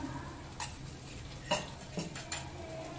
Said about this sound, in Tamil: தயிரை சேர்த்துட்டு மிக்ஸ் பண்ணிக்கோங்க.